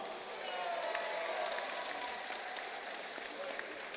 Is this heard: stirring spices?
no